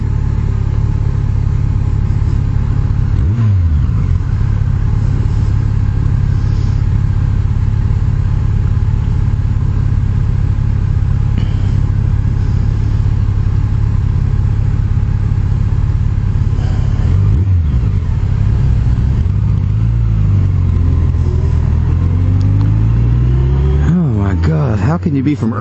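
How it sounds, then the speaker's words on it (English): Motorcycles and cars roll down Peachtree on a Saturday night, a steady rumbling engine drone with occasional revs rising and falling, close and loud, and a voice talks over it throughout. "We have more motorcycles."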